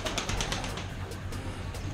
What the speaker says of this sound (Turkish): Yine bir sürü güvercin.